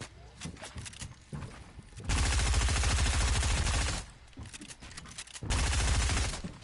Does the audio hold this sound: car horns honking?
no